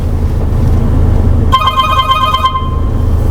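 A phone rings loudly with a bright electronic trill for about a second, cutting in over a steady rumbling engine hum from a Mahindra Thar Roxx.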